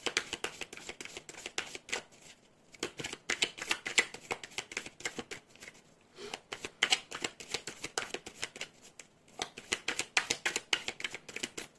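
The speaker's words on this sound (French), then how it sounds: "je vais vous tirer une carte de l'oracle de l'amour" Oracle cards being shuffled and drawn, a run of soft papery riffles and flicks in several bursts separated by short pauses, close and alone.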